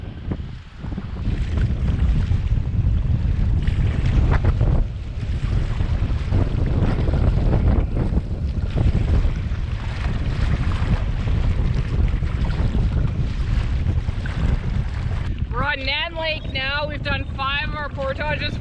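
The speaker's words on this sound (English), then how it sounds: "It is super windy again." Strong wind buffets the microphone in heavy, continuous gusts on a lake during a canoe trip in the Quetico wilderness, with a voice speaking briefly near the end.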